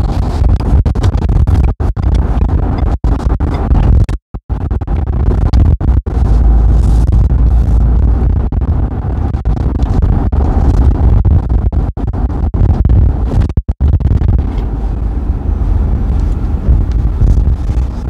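A 2023 Ford car driving toward the beach at Far Rockaway, with steady loud road and wind roar, scratchy buffeting on the microphone and a few brief dropouts, no voices.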